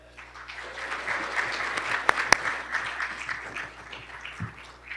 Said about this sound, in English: I'd like for you to stand and we're going to join in a round of applause